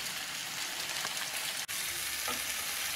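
Mixed vegetables sautéing in a pan for a kulambu, an even hissing sizzle close by with a couple of light stirring knocks and a brief dropout midway, no speech.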